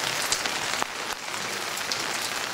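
Tropical rain in Coamo, Puerto Rico falls steadily and fairly close, a dense even patter on surfaces with a few louder individual drops, no speech.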